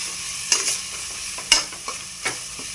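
Spices for chicken biryani stirred and sautéed in a pan, a few sharp scraping stirs with a light sizzle between them, close and clear with no talk.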